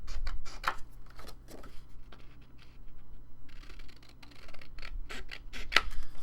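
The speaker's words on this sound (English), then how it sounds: "Okay, we'll just cut this out." Scissors snipping through printed paper from a junk-journal printable collection, a steady run of short, crisp cuts close to the mic with small rustles and clicks between them, no talking.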